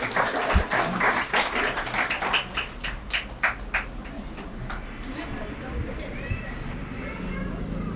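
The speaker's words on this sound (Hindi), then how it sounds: "आप लोगों से गुजारिश की तालियों से इस्तकबाल करिए।" Scattered hand claps from an audience at a certificate distribution ceremony, welcoming the president of a foundation, irregular and fairly close, thinning out after a few seconds into room murmur with children's voices.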